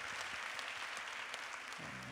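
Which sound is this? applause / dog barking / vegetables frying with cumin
applause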